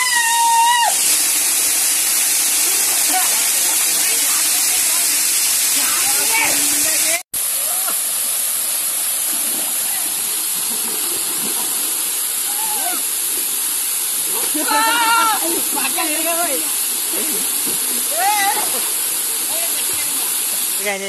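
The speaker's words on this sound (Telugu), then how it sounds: "ఇక్కడైతే అయిపోయింది మనకి వాటర్ఫాల్ పేరు వచ్చి ఎర్రవరం వాటర్ఫాల్స్ అంటారు." The Yerravaram waterfalls on the Narsipatnam to Chintapalli road roar in a loud, unbroken rush, with someone talking over the steady spray throughout.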